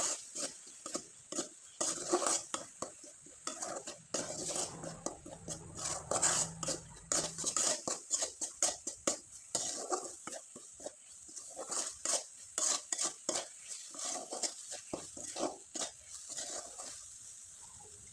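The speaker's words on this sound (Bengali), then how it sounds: "এবার নেড়ে চেড়ে পুরটা কিন্তু একটু শুকনো করে তৈরি" A metal spoon scrapes and clinks against a pan while stirring coconut filling mixed with milk powder, in irregular repeated strokes, close and fairly quiet with short gaps between scrapes.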